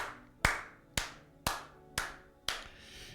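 Five sharp, evenly spaced claps ring out in a church congregation, each a crisp burst decaying quickly in a reverberant hall, with no voices.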